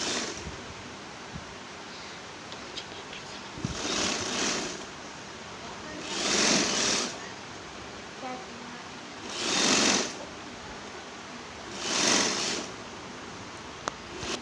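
A sewing machine stitches the shoulder seam of a kurti in four short whirring bursts a couple of seconds apart, close and clear, with quiet pauses between runs.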